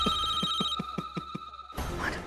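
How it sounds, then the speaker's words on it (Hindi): A telephone rings with a regular pulsing pattern of repeated electronic tones, then stops abruptly as a noisier sound takes over. "प्लीज फोन उठाइए मानव।"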